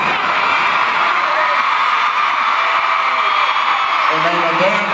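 A packed live hip-hop show crowd of women screaming and whooping, a dense, loud, continuous roar throughout, with a voice speaking over it near the end.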